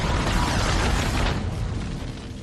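A meteor explodes in the atmosphere with a deep, loud roaring blast that rumbles broadly, then slowly fades into a lingering low rumble.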